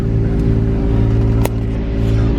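A Nissan G35 engine idles loudly and steadily up close, its low rumble swelling briefly in a couple of short revs.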